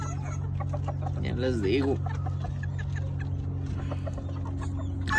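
A fancy hen clucks in a short burst near a poultry brooder lamp, over a steady low hum, while someone speaks Spanish nearby.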